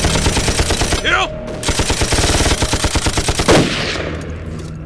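Loud, rapid machine gun fire rattles in fast rhythmic bursts in a war action film scene with Japanese soldiers, with a brief gap before the firing resumes.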